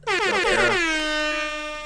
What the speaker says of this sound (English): Let's get an air horn for her.